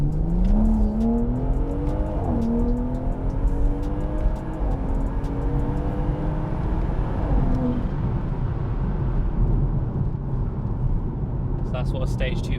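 A BMW M140i with a stage 2 map revs hard in manual mode, engine pitch climbing through gears with brief dips at each upshift, loud and close from inside the car, a voice speaking over it.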